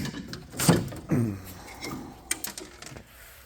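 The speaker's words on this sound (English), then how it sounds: "Let's open the hood here." Hood of a 1975 Suzuki Fury 440 snowmobile being opened: two clear knocking thuds close together, then softer clicks and rattles as the panel is lifted.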